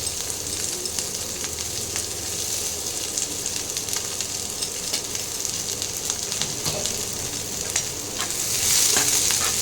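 Chopped onions fry in oil in a pan for a prawn jhuri. A dense, continuous sizzle carries scattered small crackles and stirring noises, and it grows slightly louder toward the end.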